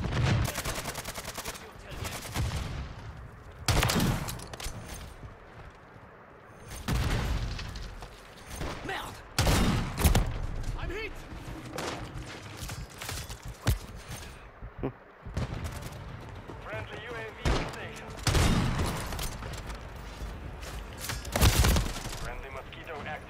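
A MORS sniper rifle fires in Call of Duty MWIII, with loud, sharp shots and booming blasts spaced irregularly through a long, busy stretch of other gunfire and game noise, and a voice talking at times.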